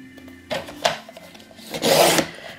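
A blade rasps through stiff grey cardboard in a few short, scratchy strokes, close up, with brief pauses between cuts.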